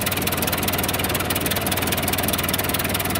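A 1911 Buick brass-era car engine idles close by in a steady, dense mechanical chatter with an even, rapid pulse and no voices over it.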